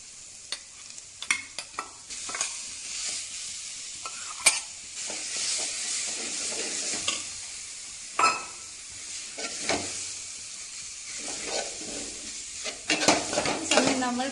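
Dates go into a frying pan for a lemon pickle and are stirred, a spatula scraping and knocking against the pan in repeated bursts over a continuous close sizzle of hot oil.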